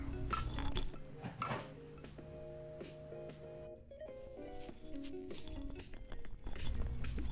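Plates, a pan and cutlery clink and clatter up close in a home kitchen while eggs are plated, with scattered light taps and scrapes under faint background sounds.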